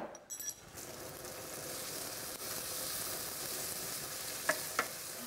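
Onion frying in a pan with dry ginger and turmeric added, giving a steady sizzle throughout, with a brief clink near the start and two small taps near the end.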